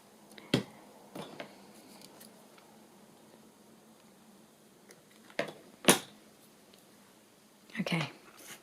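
Scissors snip stringy paper bits off a wedding journal page in a few short, sharp, close cuts spread apart by quiet pauses, with a faint whispery voice in the background.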